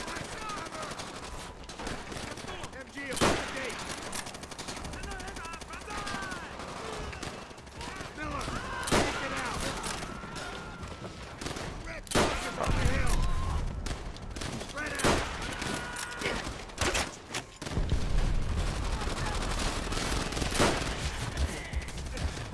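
Rapid machine gun bursts and scattered gunfire in the Call of Duty: World at War campaign, loud and repeated with sharp cracks throughout, mixed with battle noise and occasional talking.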